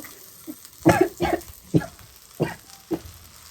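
Garlic cloves, still in their skins, frying in a pan, giving off a handful of quiet, irregular crackles and pops spaced about half a second apart.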